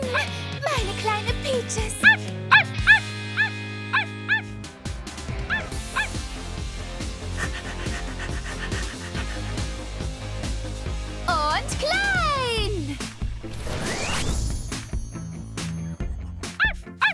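Animated dog barks and yips sound out in quick bursts from a children's cartoon series, mixed with lively background music and playful sliding effects.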